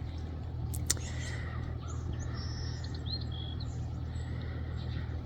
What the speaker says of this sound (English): Today we've got some geese.